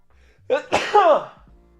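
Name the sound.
sneeze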